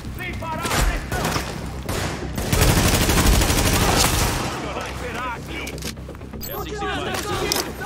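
Heavy gunfire fills a post-apocalyptic third-person shooter battle in Tom Clancy's The Division, dense bursts of automatic fire and thumping impacts continuing throughout, with a voice speaking over the shooting.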